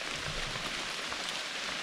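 Rain falls steadily, a soft even hiss of drops on surfaces with no voices, constant and fairly faint throughout.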